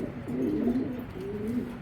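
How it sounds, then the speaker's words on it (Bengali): Racing pigeons coo close by in soft, low, throaty rolling phrases, two calls in quick succession with no voices. "কবুতরগুলো অনেক বিরক্ত করতেছে"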